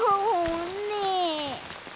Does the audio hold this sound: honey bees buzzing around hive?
no